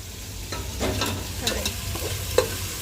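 Tomatoes sautéing in a pan for paneer biryani, a close sizzle broken by several quick scraping strokes of a spatula, steady and fairly loud, with no talking.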